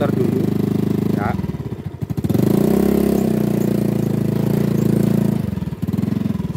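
A motorcycle engine idles steadily up close with a deep, even throb, briefly revving louder in the middle before settling back to idle as it is parked after struggling on a rain-soaked uphill track.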